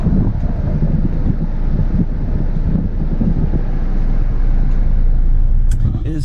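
Inside a car with the motor running and roof-mounted wind deflector fitted, a steady low cabin rumble with wind noise throughout, and a brief knock near the end.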